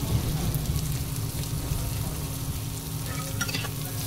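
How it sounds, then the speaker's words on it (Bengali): Mixed vegetables with chopped tomato and a little salt stir-fry in a pan for chow mein, giving a steady, close sizzle with a few scraping stirs and no talking throughout. "এবার পুরো সবজিটাকে সুন্দর করে ভেজে নিতে হবে।"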